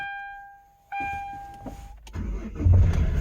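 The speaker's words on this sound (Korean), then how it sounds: "아주 경쾌하게 한 번에 시동이 걸리죠" A dashboard chime sounds, then the starter of a Hyundai Starex 11-seater automatic van cranks briefly and the engine catches at once, settling into a rumbling idle.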